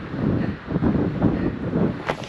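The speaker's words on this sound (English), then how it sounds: "towards the top of the mountain, it is windy up here" Gusty wind buffets the microphone near the top of Wasson Peak in Saguaro National Park, Arizona, a loud low rumble that swells and dips in waves with a brief sharper gust near the end.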